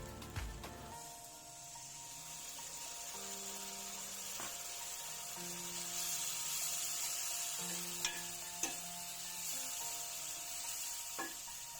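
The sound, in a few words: meat stock poured into sizzling pan for mutton saag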